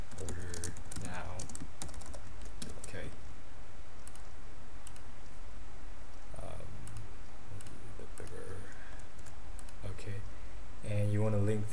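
Keys clatter on a computer keyboard while someone enters a web link address, a steady run of close, light clicks with brief pauses and low background noise throughout.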